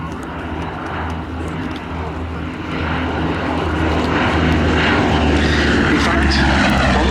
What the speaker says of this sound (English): Blenheim here was one of the prime RAF frontline aircraft when war was declared against Germany in September